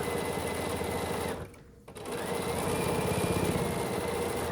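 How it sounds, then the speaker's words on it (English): A sewing machine stitches down a quilt block in a continuous, close, loud mechanical whir, briefly stopping for about half a second before running on steadily. "We're going to sew down this block."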